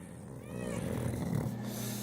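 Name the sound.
cat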